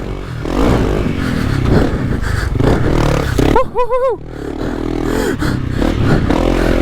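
A Honda CRF300L dirt bike drones close by while riding laps, its engine note buried in rushing wind noise, with a brief warbling pitch swing midway.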